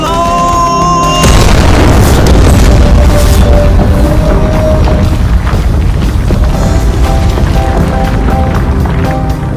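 A nuclear bomb detonating in a Roblox animation, a sudden massive boom that swells into a sustained, loud roaring rumble lasting several seconds, with faint music beneath.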